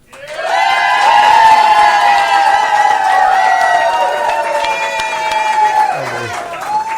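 A big crowd of Buffalo football fans at a bar and grill cheers and whoops in a sustained, loud roar close by, with shouting voices blended in before it tapers slightly at the end.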